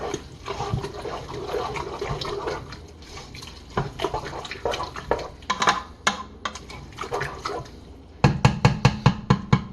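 Vegetarian chilli stirred in a pot, a utensil scraping and knocking against the pot with irregular clinks, ending in a run of sharp rhythmic taps close up.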